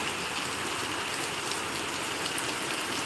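Heavy rain pours steadily in Mulkanur, a dense continuous hiss of drops hitting surfaces with no pauses and no voices.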